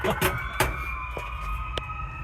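A steady ambulance siren tone holds in the background in New York City, fairly faint, under traffic rumble and a few short knocks and bumps.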